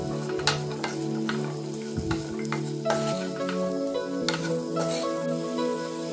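Carrot and capsicum shallow frying in a pan for homemade chicken fried rice, a steady close sizzle with occasional stirring scrapes and clinks of a utensil against the pan.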